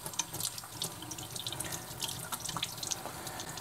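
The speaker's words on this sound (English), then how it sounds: "Let's go ahead and wash it off." Tap water runs steadily over soapy hands as they are rinsed at a sink, a continuous close splashing with small drips and irregular bursts where the hands move through the stream.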